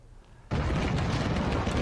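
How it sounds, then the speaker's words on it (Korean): Explosions at a burning battery manufacturing plant erupt suddenly out of a low rumble, then hold as a loud, continuous roar of blasts and crackling fire without speech. "회색빛 연기가 쉴 새 없이 솟구치고 폭발음과 함께 불꽃이 계속 튑니다"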